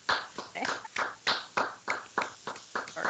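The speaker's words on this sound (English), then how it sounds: "Appreciate the claps." A few people at a commission meeting give a short round of applause, with a sparse, uneven run of about a dozen distinct claps over three seconds, close and fairly clear with no speech.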